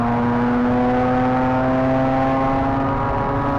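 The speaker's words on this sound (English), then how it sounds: "So floor it out of the last corner." Race car at full throttle powering out of the last corner of a circuit during a race, a steady, loud, close engine drone with strong sustained harmonics and no talk over it.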